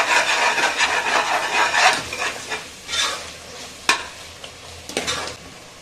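Chicken with yogurt fries in a pan for a Hyderabadi biryani, a steady sizzle under repeated scraping stirs of a spoon against the pan, close and loud.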